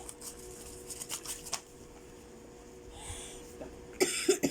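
A person with a cold coughs a few times in a quiet room, short sharp bursts at close range near the end after a stretch of low background noise.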